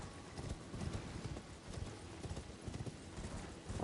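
Hooves of the Night Cavalry's horse pound in a fast, steady gallop in Elden Ring, a close, continuous clip-clop rhythm with no voices over it.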